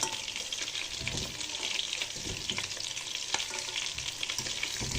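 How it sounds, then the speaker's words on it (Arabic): Small meatballs fry and brown in a pot, giving a steady dense sizzle and crackle throughout with occasional louder pops. "كما ثاني كنحمرها هنايا في القدره نخليهم يتحمروا"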